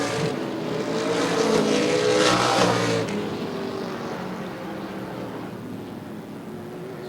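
Stock race cars from the ARCA/CRA Super Series racing at Baer Field Motorsports Park, a steady loud roar of engines passing close that peaks and then eases to a sustained drone as the pack moves off.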